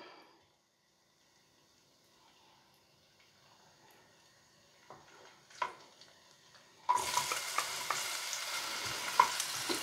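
A loud, steady sizzle suddenly bursts in after quieter kitchen clatter, hissing continuously as apple fries in a hot pan.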